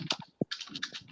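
Quick clicking keystrokes on a computer keyboard, close and fairly loud, in an irregular burst of taps with short pauses between them.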